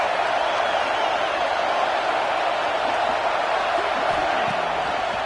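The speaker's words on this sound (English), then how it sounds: "This crowd is trying to inspire this defense to make a big red zone stop." Dense, steady roar of a video game college football stadium crowd cheering during a red zone defensive stand, a broad wash of cheering noise that stays constant throughout.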